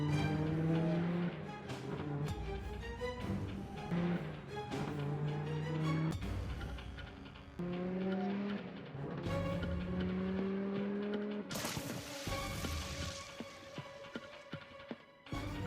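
A car speeds along the road in a chase, its engine revving and shifting pitch with tire squeals and loud mechanical roars, under a dramatic scene mix.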